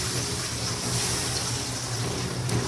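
A cup of water is poured into a pot of tomato masala for butter chicken, a steady loud gushing splash that continues without break and with no talking.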